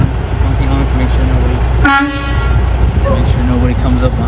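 A semi truck's horn gives one short, loud blast over the constant heavy rumble of the idling truck cab.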